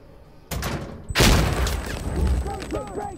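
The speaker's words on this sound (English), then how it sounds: "No, I'm gonna throw a grenade in." A grenade blast in Insurgency Sandstorm lands as a sharp, loud double burst followed by a lingering rumble and debris. Game voices carry faintly behind it.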